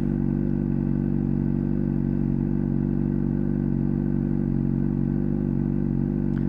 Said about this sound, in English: we're going to hit the starter. And the bike's going to turn on.